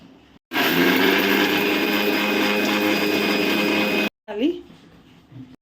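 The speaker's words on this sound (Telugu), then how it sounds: "ఎండుమిర్చి, ధనియాలు, జీలకర్ర, కొంచెం సాల్ట్ వేసుకొని మిక్సీ పట్టుకుందాం." A kitchen mixer grinder whirs loudly and steadily for about three and a half seconds, grinding dried red chillies, coriander seeds, cumin and salt, then cuts off abruptly; a voice speaks briefly afterward.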